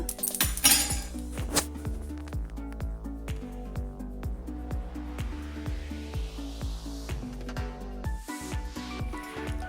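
Spluttered mustard seeds being tipped from a pan onto a plate while making citron pickle: a quick, regular series of light metallic clinks and scrapes from a spoon against cookware, close and fairly quiet, with no talking.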